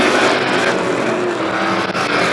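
Street stock race cars roar around Star Speedway during a heat race, a loud continuous blare of engines and passing cars with slight fluctuations as the pack jostles for position.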